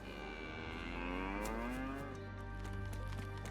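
A cow in the DayZ video game, on the Chiemsee map, lets out a long, drawn-out moo that rises and falls, heard clearly over a steady low game-ambience hum, with no talking.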